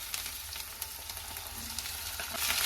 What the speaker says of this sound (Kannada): ಇವಾಗ ಇದ್ರೊಳಗಡೆ ನಾನು ಟೊಮೆಟೊನ ಹಾಕೊಂಡು ಫ್ರೈ ಮಾಡ್ಕೊಳ್ತೀನಿ